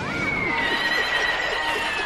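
A wild mustang gives a loud, close whinny, a long wavering neigh that falls in pitch and carries steadily across the whole moment.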